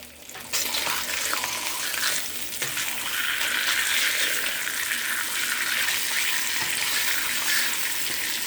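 Salami frying in a pan: a loud, continuous hiss of sizzling fat that starts abruptly and holds steady, with a faint clink or two as the slices are flipped.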